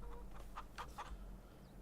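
Chickens clucking in the video game Farming Simulator 22, a few short clucks in quick succession, faint.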